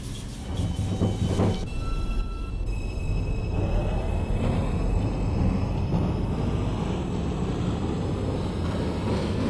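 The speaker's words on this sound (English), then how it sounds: "This is a Manhattan-bound 5 train." A New York subway 5 train in the OpenBVE train simulator game runs toward Manhattan, a continuous loud rumble of rolling wheels with whining motor tones rising steadily, heard from inside the car.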